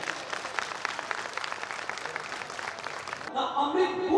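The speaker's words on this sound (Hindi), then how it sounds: "मैं चाहूंगा कि एक बार उस व्यक्ति के सम्मान में जोरदार ताली बजाई जाए।" An audience at a Bhojpuri stage show bursts into sustained applause, dense steady clapping from a crowd heard at a moderate distance, giving way at the end to music and amplified sound.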